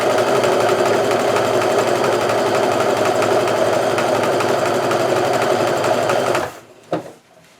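A sewing machine runs steadily and loudly for about six seconds, stitching Kaffe Fassett jelly roll fabric strips for a quilt, then stops with a couple of faint clicks.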